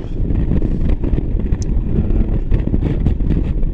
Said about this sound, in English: Windy up on this moor, up high up here